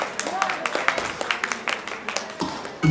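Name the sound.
audience applause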